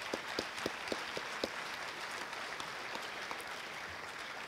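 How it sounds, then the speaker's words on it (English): Faint, scattered applause from a crowd at a high school athletic awards ceremony, a few distinct claps standing out at the start before thinning into a soft, distant patter. "But how about a quick round of applause for Miss Rizzo and Amy Croto."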